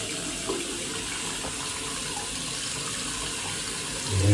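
A bathroom tap runs in a steady broadband hiss of flowing water, the stream staying even for a few seconds before a slightly louder, heavier gush at the end.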